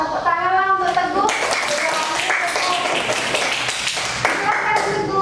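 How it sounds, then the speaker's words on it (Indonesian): Children clapping their hands in a classroom activity, rapid bursts of claps under the loud voice of someone speaking, with the clapping continuing throughout. "Tepuk tangan untuk Teguh."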